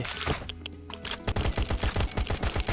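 Rapid automatic gunfire in the Last Island of Survival shooting game, preceded by a short noisy clatter, then a steady, loud stream of evenly spaced shots rattling off for over a second.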